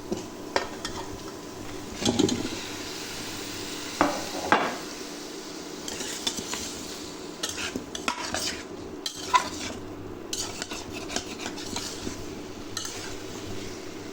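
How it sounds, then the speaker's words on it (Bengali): Cauliflower and potato pieces frying in spiced oil in a pan for a curry, a steady low sizzle under repeated scraping and clinks of a spatula stirring, with no talking. "এভাবে আমি 2 মিনিট তরকারিটা একটু ভেজে নিব"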